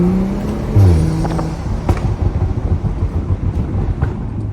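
A BMW F30 with an XHP transmission tune downshifts quickly, the engine note dropping then rumbling and burbling loudly and unevenly from inside the car.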